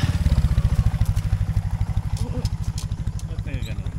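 A motorcycle engine idles up close in rural Ifugao, Philippines, with a fast, even low thumping throughout and brief voices near the end.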